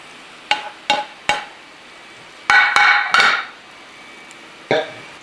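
Beef and bok choy are tossed in a pan, making a series of sharp metallic clanks and short scraping bursts, close and loud, spaced irregularly with quiet gaps between.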